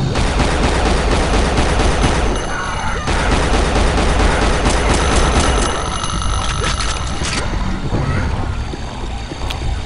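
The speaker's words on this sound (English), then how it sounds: "the 6-barreled rocket launcher in this game" A six-barreled rocket launcher fires in the Unreal Gold game, a loud, dense run of rapid blasts and mechanical clatter that carries on almost without a break, with no talk over it.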